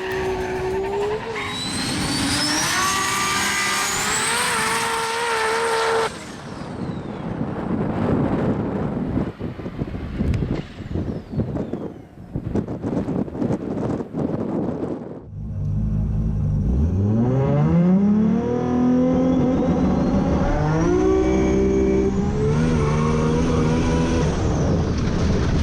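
Nissan GT-R drag racing run at a GT-R grudge-match event with boosted power, loud engine revving through rising gear pulls, then a choppy, wind-buffeted stretch before another strong accelerating run; no talk.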